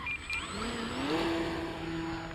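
Electric motor of a yellow E-flite T-28b Trojan RC plane spinning up on a 4S battery, a rising whine that climbs in pitch and then holds steady, close and alone.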